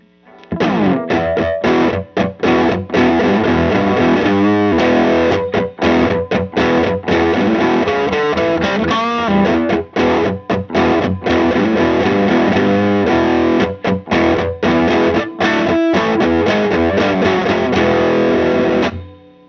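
A heavily distorted electric guitar through a Vox AC4TV tube amp plays loud, sustained chords and riffs with a thick, saturated amp tone, continuous with brief pauses.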